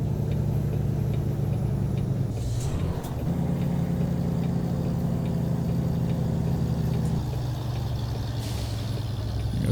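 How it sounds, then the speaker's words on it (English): A truck in American Truck Simulator rumbles past with a loud, steady engine drone, a brief air-brake hiss breaking in partway through before the engine noise resumes, with no talking. "There goes that truck."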